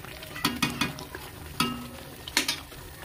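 Masala spices fry in oil in a pan, with a soft sizzle under sharp, repeated clinks and scrapes of a spatula against the metal at an uneven rhythm.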